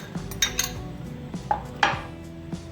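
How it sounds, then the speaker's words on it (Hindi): Chopped peaches tipped into a bowl for Lahori fruit chaat give a few light clinks and knocks of fruit and utensil against the dish, spaced irregularly and close by with no talking. "मैंने एक बाउल लिया है और उसमें मैं आड़ू डालूंगी सबसे पहले।"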